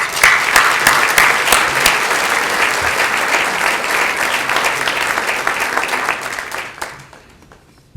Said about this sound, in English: Join me in a round of applause for Tom and Barbara.